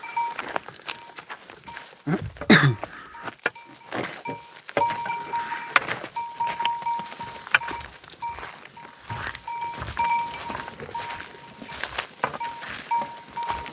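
Sheep bleat on an off-grid farm amid busy outdoor livestock sounds, with short calls and clattering rising and falling throughout, fairly close and continuous.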